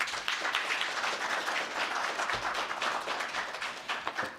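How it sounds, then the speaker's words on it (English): Audience applause at a stock exchange listing ceremony, steady distant clapping from a crowd that holds at an even, fairly quiet level throughout without any speech over it. "Big round of applause, ladies and gentlemen"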